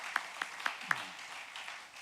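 A church congregation at a Wednesday service gives a brief round of applause, a few distinct claps followed by a soft, diffuse patter heard from across the room.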